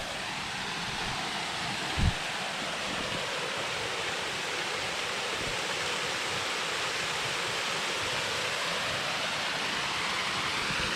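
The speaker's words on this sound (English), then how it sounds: "You can hear the waterfalls coming down the" Steady broadband rush of a small waterfall pouring down a creek on the Marrinup Falls loop walk, continuous and fairly loud, with a brief knock near the start.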